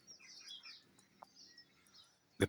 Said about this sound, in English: Let's see if we can just show you these birds here.